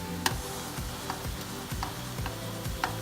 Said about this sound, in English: I'm gonna flip them all over and let them cook on the other side.